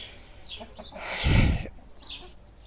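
Chickens cluck and chatter nearby, with one louder burst of clucking in the middle and scattered bird calls around it.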